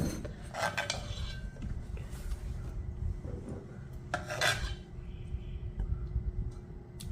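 A spoon scrapes and rasps ground horse gram chutney from a grinder jar into a bowl, giving a few short scraping bursts between quieter rubbing and clinks, fairly close.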